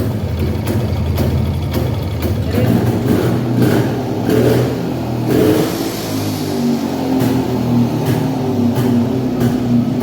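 A vintage two-stroke motorcycle engine idles steadily up close, its running note even and continuous with faint rhythmic ticks.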